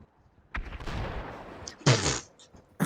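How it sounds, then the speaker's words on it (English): An explosion goes off in a GTA roleplay game: a loud broadband blast booms out after a quiet moment, followed by a second, sharper burst and a fainter crack at the end, with no talk over it. "Do you care to comment on that explosion?"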